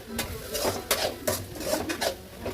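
Spices for aloo biryani stirred in a cooking pot, with a spoon repeatedly scraping and clinking against the metal in a loose rhythm, close and moderately loud.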